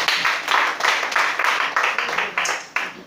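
A church congregation claps together to acclaim Jesus during a worship service, a quick, even rhythm of about four claps per second, fairly close and loud, with no talk over it.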